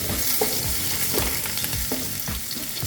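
Chopped garlic and ginger sautéing in a pan for a Kerala squid roast, a loud steady sizzle close up with a spatula scraping and stirring through it at a regular pace, no voices.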